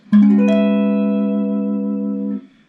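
A single sustained 6/9 guitar chord in E rings out clearly for about two seconds, then cuts off; no talking.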